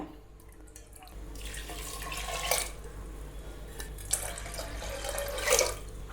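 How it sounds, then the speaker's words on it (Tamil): Water runs and pours into a pressure cooker holding washed toor dal in a home kitchen, a continuous splashing stream in two bursts with small clinks, fairly close and without speech. "இப்போ இத குக்கர்ல சேர்த்துக்கலாம். தண்ணி வந்து தேவையான அளவு ஊத்திக்கோங்க."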